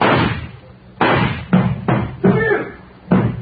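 Knocking on a door in an old radio drama, several loud, hard raps in irregular bursts close to the microphone, each a sharp thump with a short decay.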